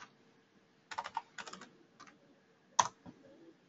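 Short bursts of key clicks on a computer keyboard, quick taps clustered in irregular runs with a louder strike near the end, close and fairly quiet against a faint room hum.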